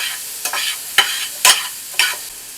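Onions sizzling in a pan while a utensil stirs them, four sharp scraping strokes about half a second apart over a steady frying hiss, close and with no talking.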